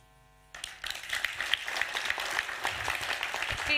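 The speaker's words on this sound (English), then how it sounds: "Another round of applause for Moshe Hokek, everybody, please." Audience applause for a speaker at the FINNEY media launch event in Barcelona, with clapping starting abruptly after a short quiet moment and building to a steady, moderately loud wash of hands.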